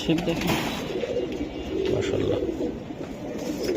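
A silver Giribaz pigeon coos softly in low, repeated throaty murmurs close by, with someone talking over it.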